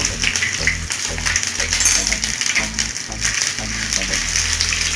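Spice powder for a chicken pickle lightly frying in a pan, a continuous bright sizzling hiss with faint crackles, close and steady beneath a low musical background.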